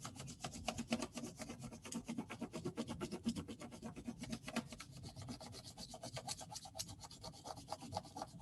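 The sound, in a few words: crayon rubbed lightly over leaves on paper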